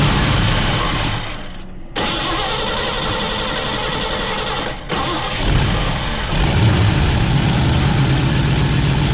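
BMW car engine cranking and catching, then settling into a steady loud idle with a couple of brief dips in revs, close up with no talk.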